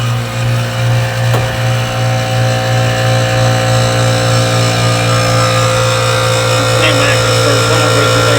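A hydraulic ram machine cranked up and running, giving a loud, steady mechanical drone with a strong low hum that holds throughout without pause.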